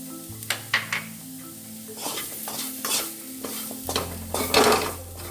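Chopped chilies stirred into a sizzling jackfruit mixture in a pan, with repeated scraping spoon strokes over a steady low frying hiss and faint background music.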